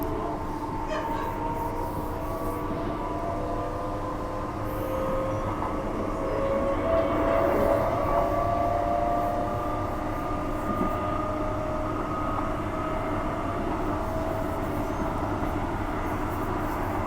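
A Transperth commuter train rolls steadily along the tracks from Thornlie to Perth with a continuous rumbling drone and faint high squeal, heard from inside at moderate level.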